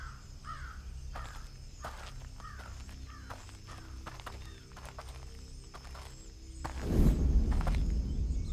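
Crows caw repeatedly in an early-morning setting near a forest, their harsh calls mixed with scattered footsteps, before a louder rush of sound swells near the end.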